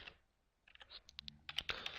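Quick clicking keystrokes on a computer keyboard, a close burst of uneven taps that grows denser toward the end, quiet and alone.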